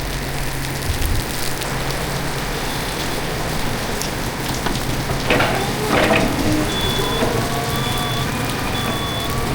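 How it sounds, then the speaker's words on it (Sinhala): Heavy rain falls steadily outdoors in a broad, continuous hiss. A faint vehicle hum and a few thin, repeated beeps sit beneath it, and no one speaks. "අද නම් හොඳටම වැස්ස දවසක්. හයියෙන් වහිනවා."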